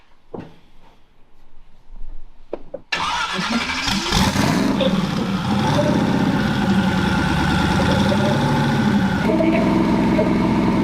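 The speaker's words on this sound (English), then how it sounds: "we're gonna turn it over and make sure that it cranks" A Pacer car engine cranks on a newly replaced starter and fires up, quiet shuffling at first, then a sudden loud start that settles into a steady, rough running idle with some revving.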